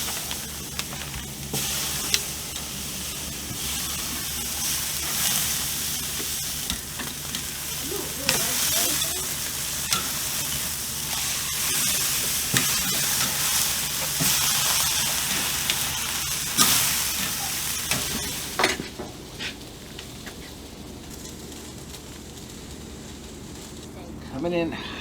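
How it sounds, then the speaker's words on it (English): Wagyu, grain-fed, grass-fed and bison flank steaks sear in a hot pan, with a loud, steady sizzle running throughout and scattered pops and crackles close by. "I'm gonna get them down for a quick sear."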